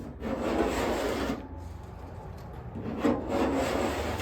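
Paint being scraped off a 1987 Camaro Z28 door, a steady close rasping and rubbing of scraper on the panel that runs in two long strokes with a brief lull between them, with no talk.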